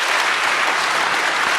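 A live audience at a bookstore author event bursts into loud, dense applause that holds steady and full for the whole stretch, close and continuous.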